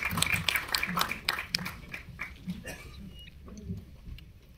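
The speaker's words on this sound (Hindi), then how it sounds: "जोरदार तालियां हो जाए please for the legend who's here with us" An audience applauds to welcome the composer A.R. Rahman at an event, a fairly faint burst of scattered claps that thins out and fades over several seconds, with no talk over it.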